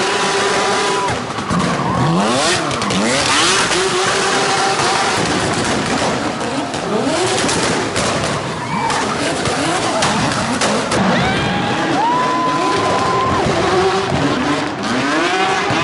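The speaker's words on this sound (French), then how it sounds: "Des points étaient également alloués pour le coup d'œil des voitures, le bruit qu'elles faisaient ou encore la fumée générée par les roues." Drift cars at the 2014 Red Bull Car Park Drift final roar continuously, with engines revving and tires squealing and skidding in repeated rising and falling wails. The sound is loud and dense throughout.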